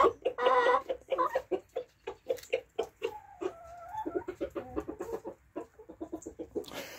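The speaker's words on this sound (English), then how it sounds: "she's been distracted by the cockerel. They are funny birds." Hens cluck repeatedly alongside a cockerel in a farmyard, with close, busy bursts of clucking and a few drawn-out calls running throughout.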